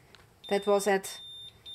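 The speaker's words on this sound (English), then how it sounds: "Okay, now it's giving us an alarm." A cheap handheld Geiger counter sounds its radiation alarm, a short electronic beep tone lasting under a second, heard close up with a person speaking over it.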